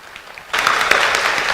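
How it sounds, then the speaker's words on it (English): Audience applause at a university graduation ceremony, starting suddenly after a quiet moment and swelling into dense, steady clapping from a large crowd. "Please give him a round of applause."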